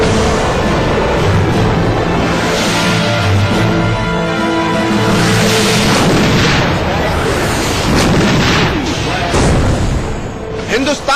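An S-400 missile defense system firing, with heavy blasts and booming roars rolling together into a dense, loud barrage that continues without a break.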